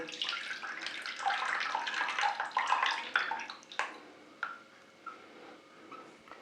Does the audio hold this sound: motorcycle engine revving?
no